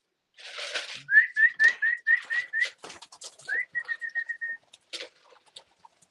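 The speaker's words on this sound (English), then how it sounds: "that cockbird cooing" A racing pigeon cockbird coos in a quiet loft, a close run of short repeated whistling-like notes in two bursts with faint wing flutters and soft bird sounds between.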